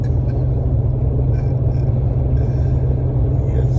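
A car travelling along a road heard from inside, a loud steady low rumble of engine and tyres with faint higher rattles, continuous throughout and without talking.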